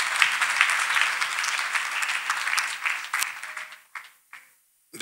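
A church congregation claps for Master Jesus at a testimony gathering, a steady burst of applause that thins out and stops after about four seconds, leaving a few scattered claps and near silence.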